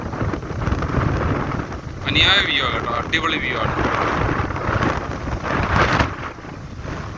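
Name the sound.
strong wind at a viewpoint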